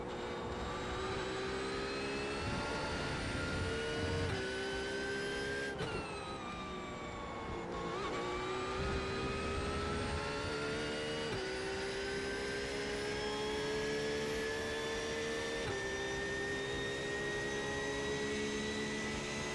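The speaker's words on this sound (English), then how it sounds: "I could sit here and listen to a flat 6 for 24 hours." Flat-six racing engine in the iRacing simulator, a steady loud drone that holds a sustained pitch, dips briefly as the car shifts, then climbs smoothly again with no voices over it.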